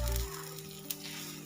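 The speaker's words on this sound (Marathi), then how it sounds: "आणि मग हे पीठ अशा पद्धतीने तव्यावरती टाकून घ्यायचं।" Taro leaf batter sizzles steadily on an oiled griddle, a close, continuous frying hiss with no voices.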